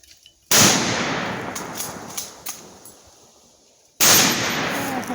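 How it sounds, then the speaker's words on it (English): Two loud, close rifle shots from a Mosin Nagant 1936, each a sharp crack trailing into a long echoing decay across an open range, spaced about three and a half seconds apart. "That's 5 rounds down range."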